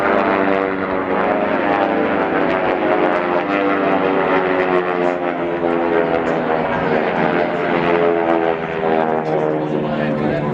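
Propeller racing airplanes roar past at the 1992 Reno Air Races with a loud, sustained buzzing, harmonic-rich engine drone lasting about ten seconds, and a commentator talks over the noise.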